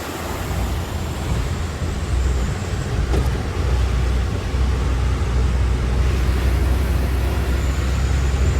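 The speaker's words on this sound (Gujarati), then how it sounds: "બેલ્ટમાં પાણી અડી જાય ને અવાજ આવે છે" A constant mechanical whir and rumble of a vehicle running through water, its belt noisy from water splashing on it, with a steady hissing spray and no voices.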